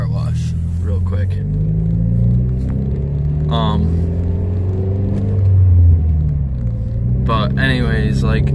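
A Scion FR-S drives on winter roads with a steady low engine and road rumble inside the cabin, while someone talks over the sound throughout.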